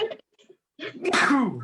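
A person sneezes sharply indoors during a group fly-tying session, a single explosive burst followed by a voiced trailing sound, close and fairly loud after a few quiet spoken words.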